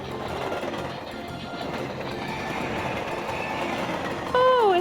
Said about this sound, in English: It looks like the train's coming and the bar has come down.